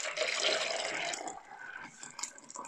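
Hot thyme and dandelion syrup is poured into jars, a bright liquid trickle that runs strongly at first, then thins into smaller splashes and drips, close up with no talk.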